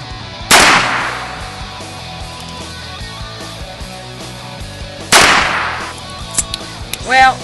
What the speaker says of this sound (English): I'm going to see what kind of penetration I get with the 22 long rifle